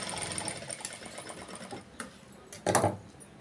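A sewing machine runs a fast, steady stitching chatter on a computer-embroidered blouse, then stops and gives way to a couple of louder handling thumps with no talking.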